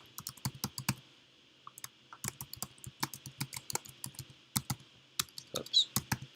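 Rapid, irregular clicks of a computer keyboard as someone types into a questionnaire form, close and clear, in uneven bursts with a short pause near the start and no talking.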